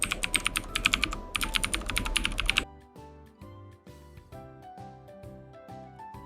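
Fingers clatter quickly on a computer keyboard in rapid bursts of keystrokes, up close, for a few seconds before soft electronic music takes over.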